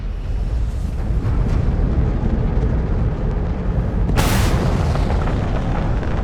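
Crimson Fleet enemy ship weapons fire and explosions in Starfield space combat, a steady heavy rumble with a sudden bright burst near the end.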